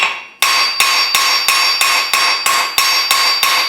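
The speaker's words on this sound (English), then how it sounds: "we're just going to give it a little hammer texture with a ball peen" Ball peen hammer striking cold forged metal to texture it, about ten sharp ringing blows at an even, unhurried pace, loud and close with a bright metallic ring decaying after each hit.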